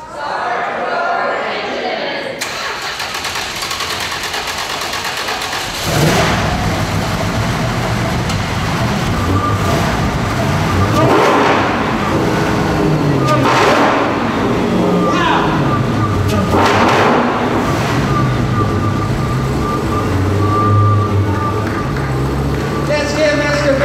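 A Dodge Challenger SRT Hellcat drag car from 2017 fires up and revs loudly and close, its engine note sweeping up and down several times in surging bursts, with a constant roar throughout.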